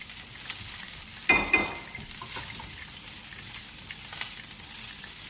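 Cabbage hitting a hot pan with meat, a sharp burst of sizzling as it goes in, then a softer ongoing fry with light stirring scrapes, close and fairly quiet.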